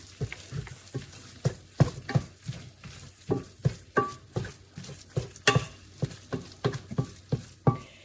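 A seasoned burrito filling is stirred in a pan with quiet sizzling underneath, a utensil scraping in a steady rhythm of about two strokes per second, close and moderately loud, with no talking.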